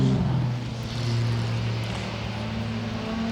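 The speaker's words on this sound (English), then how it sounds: "making that glorious six-cylinder twin-cam XK noise" A Jaguar XK six-cylinder twin-cam racing car engine drones steadily with a low, smooth hum at a historic race meeting, somewhat distant, swelling slightly before settling into a sustained tone.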